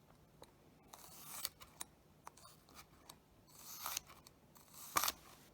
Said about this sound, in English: And then I like to just make thin slices down.